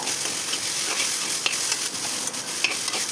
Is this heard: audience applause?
no